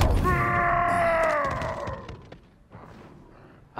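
A Brute chieftain in a Halo game lets out a loud, drawn-out guttural groaning pant, close and prominent, trailing off into quieter game thumps and clatter.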